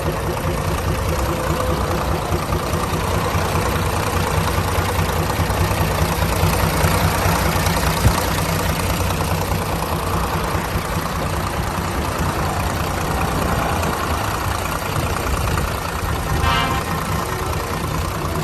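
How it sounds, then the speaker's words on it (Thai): The diesel engine of a Tadano TR-200M-4 20-ton crane truck idles steadily and loudly with a low, rumbling drone that holds even throughout, with no talking. "ทำงานได้ปกติดีมากๆนะครับเครื่องยนต์ของเจ้าคันนี้"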